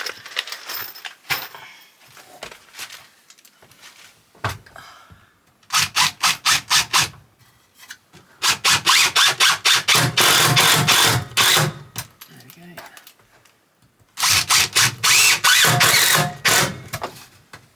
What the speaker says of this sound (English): I'm just screwing up into the support beams with self-tapping screws.